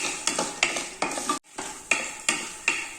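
Raw peanuts stirred as they roast in a pan over low flame, a steady dry rattling scrape repeated in regular strokes with a faint sizzle, close and alone, briefly pausing midway.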